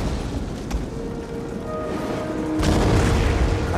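Cannon fire from artillery in the video game Total War: Attila, heavy booming blasts over a rumbling battlefield din, with a louder burst swelling near the end.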